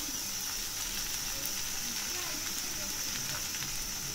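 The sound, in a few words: thalipeeth frying in a pan as oil is added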